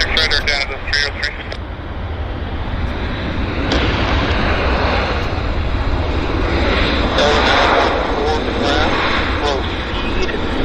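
A passenger airliner landing on runway 26 right at Vancouver airport, with a loud, steady jet engine roar filling the whole clip and a faint voice heard over the noise.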